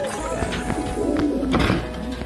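Several pigeons coo steadily in a loft, their soft, low repeated calls overlapping throughout with faint background bustle.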